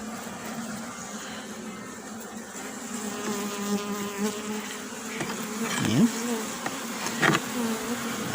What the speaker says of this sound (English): Since the bees, they're a little aggressive today